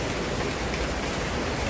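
Steady, dense rainfall pours down in a constant loud hiss, close by, with no voices.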